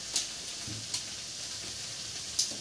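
Sliced okra (lady finger) stir-frying in a hot pan gives a steady, soft sizzle and hiss, with a few brief clinks and scrapes as it is stirred.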